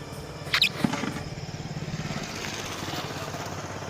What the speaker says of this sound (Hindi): ये दूसरी बाइक गई